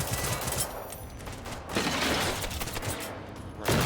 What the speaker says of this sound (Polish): Kucaj i strzelaj.